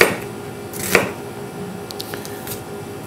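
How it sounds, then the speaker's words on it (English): A knife thinly slicing halved onions into half-moon slices on a cutting board for moussaka: a few sharp, close chopping taps spaced irregularly over a quiet kitchen background. "We cut the onions in half-moon slices, very thinly sliced"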